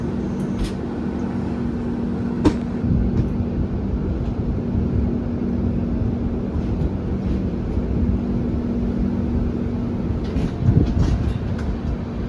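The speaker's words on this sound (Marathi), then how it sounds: "चला ट्रेन सुटली आता," Konkan Railway passenger train pulling away from a scenic station and running on, a steady low rumble with a faint sustained hum and a few light clanks, close and continuous with no voices.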